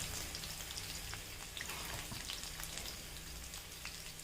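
Small onions, shallots, frying in a pan with chopped vegetables about to go in, a faint, even crackling sizzle with soft spattering pops throughout, no voices.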